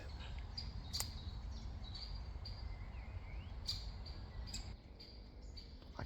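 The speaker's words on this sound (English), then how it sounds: "The woodpeckers are now quite a distinctive call, and you can probably hear it now. It's a constant chirp," Woodpeckers give a constant chirping call outdoors: repeated short, sharp chirps come at irregular intervals over faint, steady outdoor ambience.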